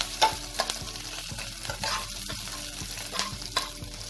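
Chopped onions fry in a pan with a soft sizzle, while a spoon stirs and scrapes at an uneven rhythm. The sound is fairly quiet and close, with no speech.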